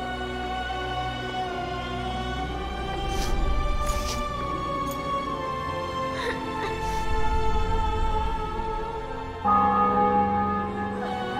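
Church bells ring out in The Witcher 2: Assassins of Kings, with sustained overlapping tolls over a continuous droning tone, a few louder strikes standing out and swelling again near the end.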